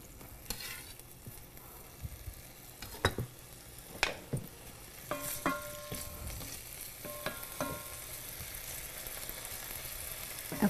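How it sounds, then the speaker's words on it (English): Pancetta sizzles in olive oil with a steady crackling hiss, scattered sharp pops and the occasional scrape of a utensil in the pan. "It's starting to sizzle."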